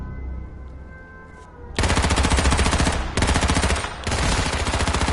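Automatic gunfire in the video game H1Z1, with three long, loud, rapid bursts close up after a quieter stretch of background game sound.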